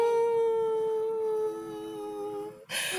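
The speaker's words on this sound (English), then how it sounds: "Mom, my dog has fake crying." A dog gives a long, sustained whining howl with a steady tone that slowly falls in pitch, close and fairly loud, followed by a brief burst of noise at the end.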